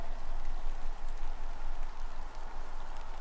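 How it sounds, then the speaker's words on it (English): Steady rain falls across a moorland village setting in the adventure game The Excavation of Hob's Barrow, a dense continuous hiss of droplets with a low rumble beneath, fairly loud and unbroken, with no voices over it. "Why is it always raining?"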